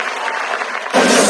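A brief burst of clapping breaks out near the end of a short moment in a Hindi school comedy skit, as a small crowd welcomes the madam chairman with sudden, fairly loud applause.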